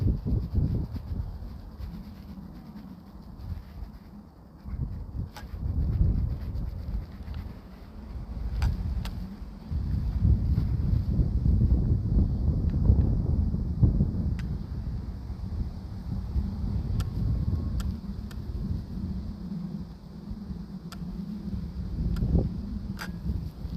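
Strong high wind buffets the microphone during a DJI Mini 3 Pro drone flight outdoors, a continuous low roar that swells and gusts throughout, with faint occasional clicks on top.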